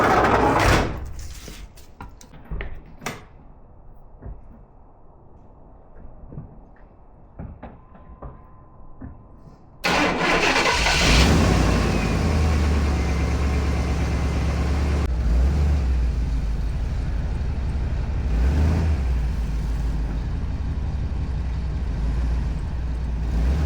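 A car engine cranks and then catches, its steady running rumble taking over after the first ten seconds. Before that come several knocks and door clunks nearby, and the engine keeps a loud, low idle to the end.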